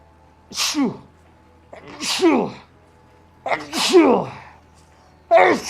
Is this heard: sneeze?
yes